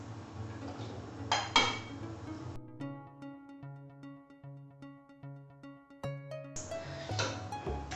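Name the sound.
adding button mushrooms to cooking pan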